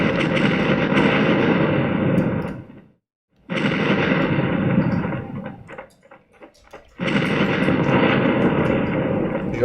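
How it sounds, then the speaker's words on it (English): Repeated game sound effects from shooting enemies in the Dragon HTML5 browser game, loud dense bursts in three long stretches broken by short gaps of near silence, with no talking. "Let's shoot some baddies."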